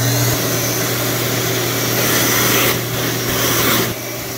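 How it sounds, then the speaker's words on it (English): A central vacuum system runs through a repaired extension cord, producing a continuous loud roaring hum with a steady low tone. The roar wavers slightly near the end, and no talk is heard over it. "Let's fire up the central vac and see what happens."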